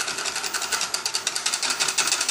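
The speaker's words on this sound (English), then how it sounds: "Give that a whisk." A mixture with corn syrup is whisked in a pan over medium heat, giving a fast, steady rhythmic scraping and swishing, several strokes per second, close and fairly loud with no talking.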